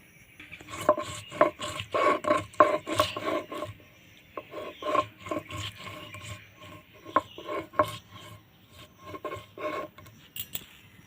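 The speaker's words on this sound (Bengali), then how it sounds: "জিরে ধনে আর মৌরি সব একসঙ্গে মশলাগুলো বেটে নেব" Cumin, coriander and fennel seeds are ground together by hand, making close, repeated rasping strokes in an uneven rhythm, with brief pauses between bursts and no talking.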